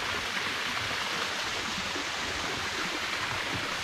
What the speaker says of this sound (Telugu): ఇదిగో ఇదేనండి అంతర్గంగ జలపాతము